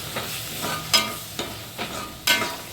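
Tomato paste poured into an iron pan for chicken curry, giving a soft steady sizzle broken by about five distinct scraping strokes of a spoon stirring, close and moderately quiet.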